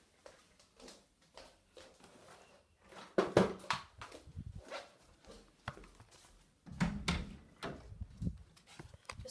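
A door is opened and propped open, producing a series of knocks, scrapes and clunks. Several louder thumps come in bursts amid quieter handling noises close by.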